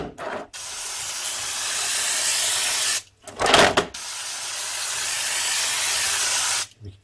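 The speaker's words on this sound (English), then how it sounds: "that Forge brake cleaner I use is really good because it's got an excellent blast to it." Forge brake cleaner sprayed hard onto a Triumph Bonneville T140 motorcycle primary drive: two long, loud pressurized hissing blasts, with a short sputtering burst between them and a quick start of another at the end.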